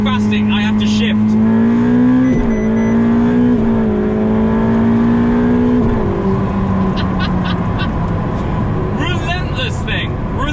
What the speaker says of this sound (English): Oh, listen to those downshifts. Have you heard how fast they are?